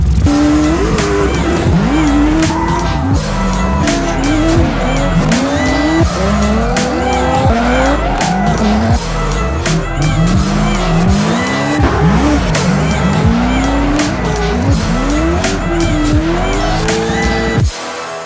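A Nissan 240 drift car slides through repeated runs, its tires squealing loudly in wavering bursts over a revving, bouncing engine, close and intense throughout.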